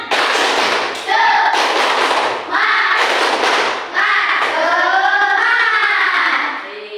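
A school class performs the 'tepuk semangat' spirit clap, bursts of rhythmic group clapping broken by short pauses, with children's voices chanting along in between and over the claps, close and loud.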